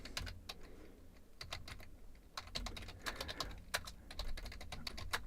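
Fingers tap steadily on a computer keyboard, a quiet, close run of light clicking keystrokes with brief pauses and no voices.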